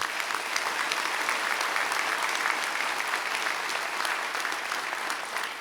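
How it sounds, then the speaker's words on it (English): Steady audience applause fills a Medal of Valor ceremony honouring CDCR recipients, a dense, continuous clapping from a large crowd at even loudness from start to finish. "let's give them a round of applause and thank them"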